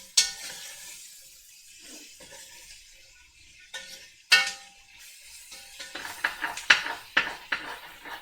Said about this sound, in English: Trying to get the little bits of bacon off the bottom so it doesn't burn